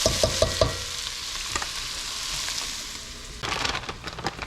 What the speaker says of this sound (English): I've added my onions and my bell pepper into my pot. Put a little salt on them, and I'm just kind of browning them up a little bit